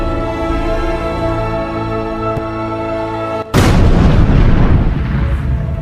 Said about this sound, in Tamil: குயிலி வெற்றிவேல் வீரவேல் என கூச்சலிட்டபடியே வெடிகுண்டுகளுடன் ஆயுத கிடங்கில் குதித்து தன்னையை மாய்த்து கொண்டாள்.